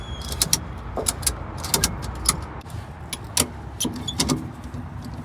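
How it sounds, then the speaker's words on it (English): A ratchet tie-down strap is cranked tight, giving sharp, close mechanical clicks in short irregular bursts with brief pauses between them. "We're going to pull it tight. We're going to start ratcheting."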